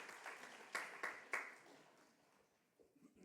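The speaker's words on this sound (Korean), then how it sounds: "이때 여러분 박수 한번 해줍시다." A university chapel-service audience breaks into brief applause: a few loud, sharp clap bursts over a soft wash of scattered clapping that fades out.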